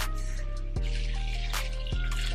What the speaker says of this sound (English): So we're gonna fill it up with water and let it soak overnight.